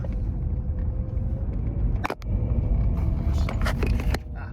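An Audi A1 engine, treated with DPF cleaner, revs under load with a loud, steady rumble and a brief dip partway through, alone without talk.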